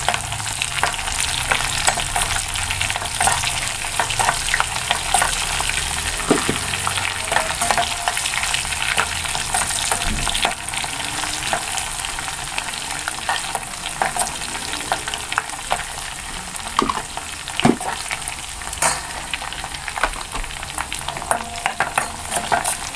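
Garlic and onions fry in a hot pan with a loud, constant sizzle, sharp crackles and spatters popping through, and occasional stirring; close-up and steady for the whole stretch, no voices.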